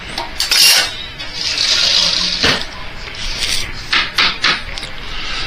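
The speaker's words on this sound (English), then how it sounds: "a slotted spoon. Maybe. There we go. Slotted spoon." A slotted spoon scrapes and clinks inside a cooking pot of sauerkraut and sausage, with close, loud rubbing strokes, a sharp knock near the start and several short metallic scrapes after.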